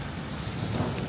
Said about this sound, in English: Thunder and lightning's been banging and clattering for a while now.